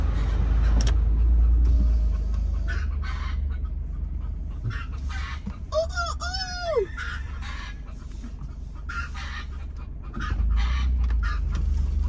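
A rooster crows once in the distance over a constant low rumble of passing traffic in north Tampa, Florida, with faint clucking from hens scattered around it.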